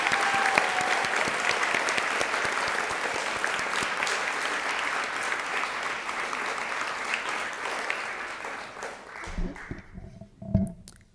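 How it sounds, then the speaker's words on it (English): An audience at a radiography program pinning ceremony applauds the graduating students with loud, sustained clapping that fills the room, then thins and fades near the end as a few faint sounds follow. "I'd like for everyone to give a round of applause to all of the graduating students"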